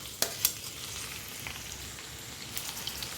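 Chopped onions and green chillies fry in hot oil, a faint, soft crackling hiss with a couple of small pops and spatters near the start, quiet and close, no voices.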